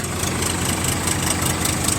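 An Indo Farm 3048 tractor with a 50 hp synchromesh constant-mesh engine idles steadily, a continuous low rumbling throb with a faint knocking pulse, close and even throughout, no talking.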